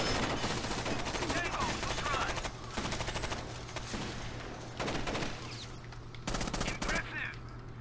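Rapid automatic gunfire from the Rainbow Six Vegas 2 video game, loud sustained bursts broken by short pauses, with players' voices faintly mixed in beneath the shooting.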